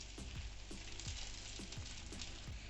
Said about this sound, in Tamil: இப்போ நான் இந்த பரோட்டாக்கு மட்டும் முட்டை வந்து ஊற்றி காமிக்கிறேன்.